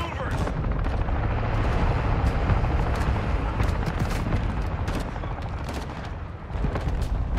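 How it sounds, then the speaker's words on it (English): A friendly mortar strike lands in an online shooter game as a dense, continuous roar of explosions and gunfire, loud and unbroken, with no clear gaps between the blasts. "Friendly mortar strike inbound."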